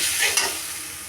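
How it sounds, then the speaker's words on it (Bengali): Ground spice paste with ginger-garlic paste and a splash of water stir-fried in a pan: a steady close sizzle with a brief scraping stir, no voices. "মশলাগুলি ভালো করে কষায় নেব"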